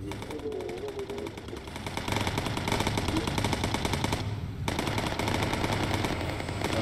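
Fifty-caliber tail-gun machine gun fire in the bomber video game Bomber Crew, long continuous bursts of rapid rattling shots, loud and close, with a brief pause midway.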